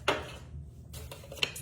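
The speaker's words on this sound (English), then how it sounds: "let's whisk all of that together" A whisk clinks and scrapes against a bowl while dry cookie ingredients are mixed for double chocolate chip cookies, in short quiet bursts with a pause between.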